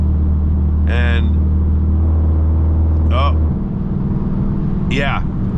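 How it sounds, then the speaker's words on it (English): Dodge Charger Pursuit Hemi V8 cruising in traffic, a steady low rumbling drone from inside the car that shifts character partway as it moves between 4 and 8 cylinders, with brief squeaky sounds over it. "so that brrr was 4 cylinders, and then when it smooths out, it switches to 8"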